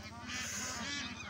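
A large flock of wild ducks, around two thousand birds, calls in a dense, rapid stream of honking quacks heard at a moderate distance.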